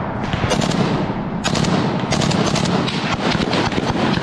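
Dense, sustained gunfire in combat near Kramatorsk, Ukraine, rapid overlapping shots and bursts that continue without pause, loud and harsh throughout.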